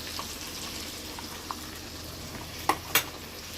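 Steady close sizzle of food frying in a hot pan while a fish curry is cooked, with a few sharp spits and pops toward the end and no talking.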